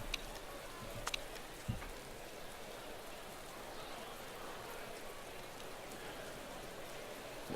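Steady rain falls in the Motorsport Manager racing game during a wet session at the Ardennes circuit, a continuous even hiss throughout with a couple of faint brief clicks and no talking.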